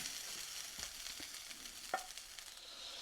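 Garlic rice frying in a pan, a faint steady sizzle broken by a few soft clicks and a brief utensil scrape, with no voices.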